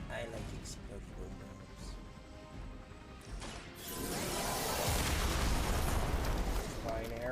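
Explosions in the video game Midnight Suns, a sustained heavy blast and crackling roar building midway and staying loud to the end.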